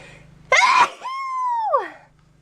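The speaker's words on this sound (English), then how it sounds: "I'm going to sneeze." One big sneeze: a sharp explosive burst followed by a drawn-out, squealing vocal tail that trails off, close and loud over near silence.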